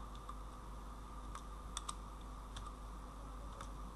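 Someone types an SQL insert command on a computer keyboard. The key clicks are quiet and scattered, with a few sharper taps and short pauses, over a faint background hum.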